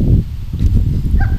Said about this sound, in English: He's doing a bark and hold.